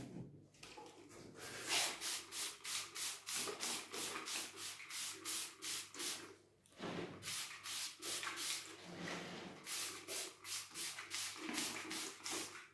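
Rapid, rhythmic spritzes from a spray bottle close by, misting an Odontoglossum orchid, fired in quick bursts separated by brief pauses, with no voices.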